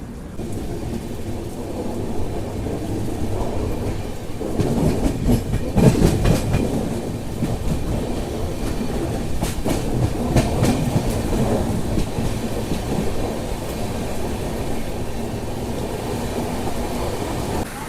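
A Sabari SF Express train, heard aboard just after pulling out of Erode junction, rumbles steadily on the rails throughout, with a heavier burst of rattling clatter midway and a continuous low roar with no voices.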